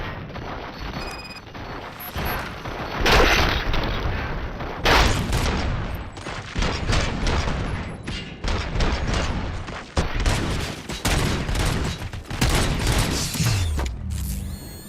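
Gunfire from RoboCop: Rogue City on PS5, with heavy sustained bursts and loud single shots and metallic mechanical clatter pounding almost continuously, full and close, with near-silent gaps between volleys.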